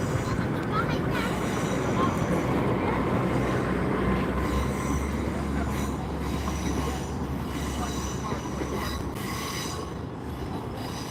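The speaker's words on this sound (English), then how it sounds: "So here goes 800-035 Naomi Betts on the service to London Paddington" British Rail Class 800 unit 800-035 passing on a Cheltenham Spa to London Paddington service at Gloucester, a loud sustained roar with squealing wheels and rail noise that slowly fades over several seconds.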